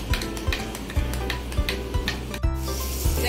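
Ground spices being stirred into softened onions in a pan, with a spatula scraping and rubbing rhythmically against the metal about once every half second, close and clear over a soft sizzle.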